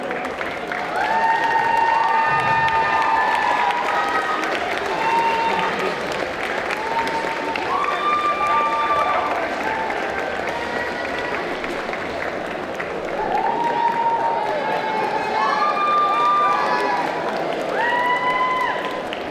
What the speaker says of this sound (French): on applaudit les 10 candidats